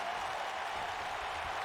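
Roaring arena crowd in the WWE 2K wrestling game during an NXT women's bout, a dense, steady wall of cheering and applause held at full volume throughout.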